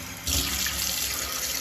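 A tea latte frother is rinsed under a running kitchen tap, the steady splash of water starting abruptly after a brief quiet moment and continuing close and even.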